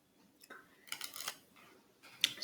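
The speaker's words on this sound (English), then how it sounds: "I'm going to shuffle the deck" Quiet papery riffling bursts as cards are shuffled close by, a few short flurries with gaps between them.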